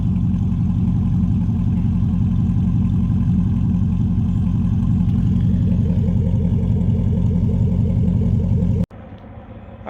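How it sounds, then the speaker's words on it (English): A truck with headers, true dual exhaust, no catalytic converters and exhaust leaks idles loud and close, a steady deep rumble with a slight lope, cutting off abruptly near the end. "here's what the truck sounds like. No cats, headers,"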